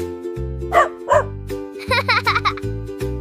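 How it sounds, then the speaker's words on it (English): A cartoon dog in a children's alphabet song gives a few short barks over a bouncy backing tune, with bright close yips clustered in the second half. "D is for dog."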